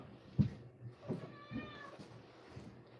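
Cats meowing while waiting for food being prepared, several short meows spaced across the moment, fairly close and moderately soft in a quiet room, one cry drawn out and tonal.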